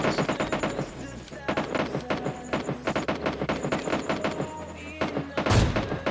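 Rapid automatic gunfire in PUBG Mobile Lite, dense bursts of shots repeating over several seconds with brief gaps, loud and close, ending in a heavier blast.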